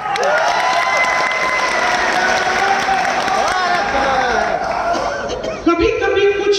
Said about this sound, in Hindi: सब ताली क्यों बजा रहे हैं